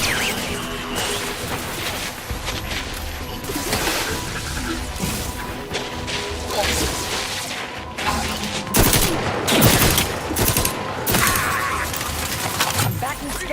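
Sustained gunfire in Outer Worlds 2 rattles through dense bursts and crashing impacts, loud and close, with a voice speaking over the battle noise.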